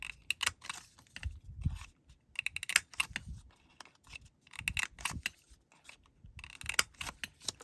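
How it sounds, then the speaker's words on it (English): Corner rounder punching the corners of paper cards, producing a run of sharp clicks and crunches in irregular groups, close by and with no talk. "then we need a corner rounder, and we're going to do all 4 corners on all 4 of these"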